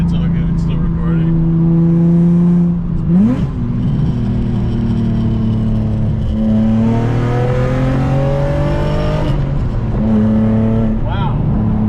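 A Nissan VQ engine in a G35 sedan driving after an engine swap, loud and close, with the engine note rising through gears and dipping at each shift, steady rumble beneath, with people talking over it.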